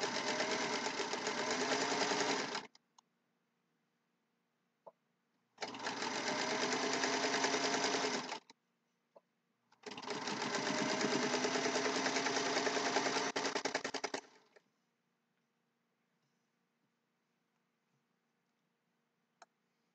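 A sewing machine stitches a quilt block in three close, steady bursts of fast mechanical chatter, separated by short pauses with a few faint clicks and no talking.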